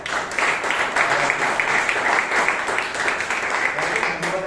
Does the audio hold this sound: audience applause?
yes